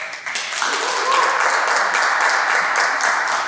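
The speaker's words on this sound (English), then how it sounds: "Applause." Steady, fairly loud applause from members at a club meeting, swelling quickly after a brief lull and holding as a dense wash of many hands clapping.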